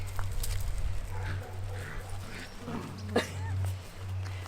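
A Maremma puppy growls low and intermittently at close range, with a steady hum underneath and some faint voices.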